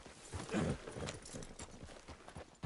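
Horse hooves clip-clop at a steady walking rhythm in Red Dead Redemption 2, fairly close and moderately loud, with brief soft sounds mixed in and no talking.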